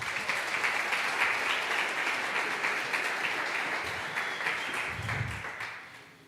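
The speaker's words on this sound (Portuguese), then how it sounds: "Aplauda Jesus, querido." A church congregation breaks into sustained applause, a thick wash of many hands clapping that fills the room and holds steady before fading away, with a brief low thump near the end.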